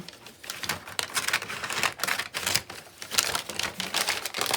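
Scissors cut through thin napkin paper for an embossing craft, a close, rapid run of crisp snipping and crinkling strokes in an uneven rhythm, with no voices.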